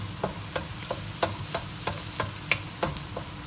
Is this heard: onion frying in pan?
yes